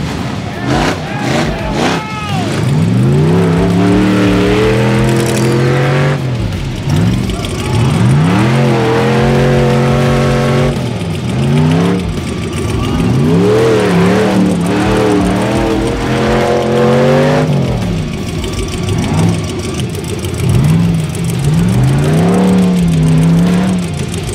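Rock bouncer trucks race on a snowy winter course, their engines roaring and revving hard in repeated rising and falling sweeps, loud and close, with an announcer talking over them throughout.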